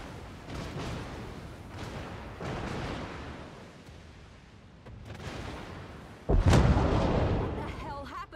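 Gunfire and booming cannon shots from a naval battle game between SETU and REPOI, a dense continuous barrage with a louder blast near the end, mixed with faint commentary.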